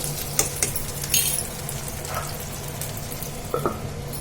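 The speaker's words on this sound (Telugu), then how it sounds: "ఈ చామగడ్డ ముక్కలు కూడా కొంచెం నూనెలో కొంచెం ఇట్లా మగ్గుతే కొంచెం బాగుంటుంది" Taro root pieces fry in oil in a pot for a tamarind stew, with a steady close sizzle and occasional clinks and scrapes from a utensil.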